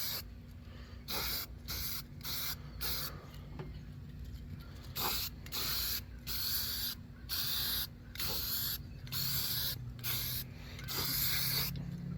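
Filler primer is sprayed from a can onto an Aerotech Sumo model rocket in a series of short hissing bursts separated by brief pauses, moderately close and with no talking.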